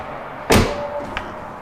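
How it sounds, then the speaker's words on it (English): A Tesla car door shuts with one solid thud, followed by a faint click a moment later, close by in a quiet setting. "Let me try it, the door's shut."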